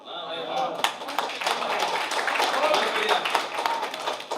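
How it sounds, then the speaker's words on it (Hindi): Applause from the audience at a Holi poetry recital, a steady patter of clapping over several seconds, with a voice speaking over it. "तालियों का घनत्व तो कमजोर है,"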